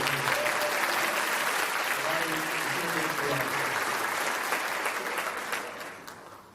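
Audience applause at a talk, sustained clapping from many hands with some voices beneath it, gradually fading out near the end.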